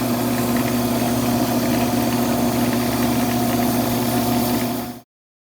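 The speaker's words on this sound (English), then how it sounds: "I'm gonna go ahead and flatten this down with some 400 grit" A wood lathe spins a cross-cut pen blank while it is sanded with 400 grit: a steady, close, continuous motor whir with a gritty rushing layer that stops abruptly after about five seconds.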